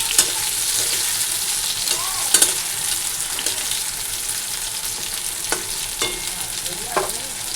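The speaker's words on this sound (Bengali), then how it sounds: "তো এখানে এই যে সব মিলিয়ে ভাজা বসিয়ে দিয়েছি একসঙ্গে।" A mix of vegetables fries together in a pan, giving a steady close sizzle broken by occasional sharp clinks and scrapes of stirring.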